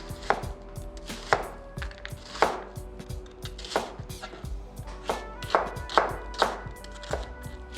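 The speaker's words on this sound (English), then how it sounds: "Cut this onion in the thin slice." A kitchen knife slicing an onion thinly on a cutting board for ramen prep, sharp distinct knocks at an irregular rhythm, about a dozen cuts, close and clear with no talk.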